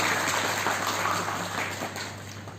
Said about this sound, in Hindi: तो प्लीज़ तालियों के साथ प्लीज़ इनका अभिनंदन करते हैं